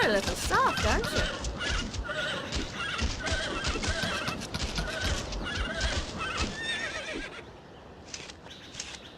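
A horse in The Bard's Tale video game whinnies and neighs several times up close, with clip-clopping hooves and background game sounds running beneath, while someone talks over it.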